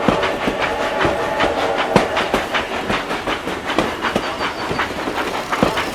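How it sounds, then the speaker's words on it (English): A long cartoon train rolls past with a steady, loud clickety-clack of wheels over rail joints and a continuous rumbling roar, heard close and without voices. "This is the longest train in the world."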